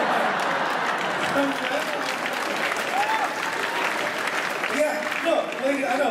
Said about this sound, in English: I know, ladies are clapping, that's right